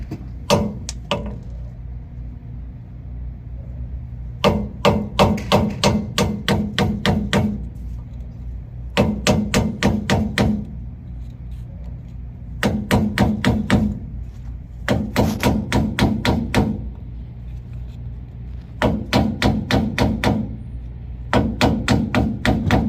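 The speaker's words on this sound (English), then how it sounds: "We're gonna use a chisel to get it out from here, chisel it down, and we're gonna remove our seal." Bursts of sharp metallic hammer blows strike a chisel to cut out the rear axle seal on a 1999-2013 Chevrolet Silverado, rapid clusters of ringing hits separated by short pauses, loud and close.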